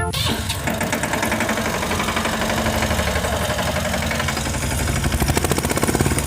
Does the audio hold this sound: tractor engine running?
yes